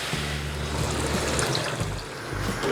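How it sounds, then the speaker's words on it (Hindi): Water pours steadily from a container into a pot of sugar to make syrup, a continuous close splashing and gurgling stream with a low hum underneath and no talking. "इसमें हम 1 लीटर पानी डाल देंगे"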